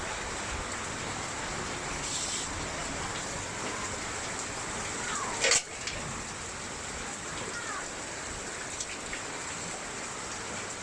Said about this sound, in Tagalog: Baha na naman sa labas namin.